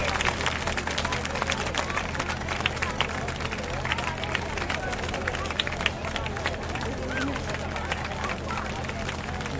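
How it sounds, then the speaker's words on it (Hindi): A rally crowd keeps up loud, dense applause to welcome guests, with clapping packed tightly over a general hubbub of voices for the whole stretch. "आपकी तालियां नहीं रुकनी चाहिए, जोरदार तालियों के साथ स्वागत कीजिए।"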